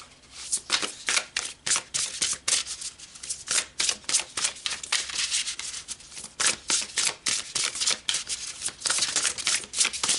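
Tarot cards being shuffled close up, a steady run of papery riffles and soft rubbing swishes in uneven bursts, with no voices.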